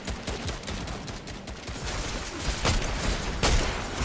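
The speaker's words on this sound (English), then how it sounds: "Oh, that's a sniper rifle." Rapid sniper rifle fire and gunshot bursts from a Fortnite match, loud and close, with sharp cracks standing out over dense, noisy game action.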